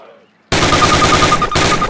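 Rapid rifle fire at a target in Call of Duty breaks out after a quiet moment, a loud close stream of shots with a brief pause before it resumes.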